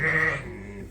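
A sheep on a farm bleats once, loud and close, the single drawn-out call fading slowly over under a second, with no talk.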